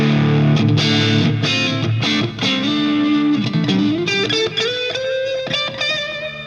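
An electric guitar played through Line 6 Helix amp simulations with two amps blended 50-50 rings out loud and close in a distorted tone, with strummed chords giving way to a rising run of sustained single notes.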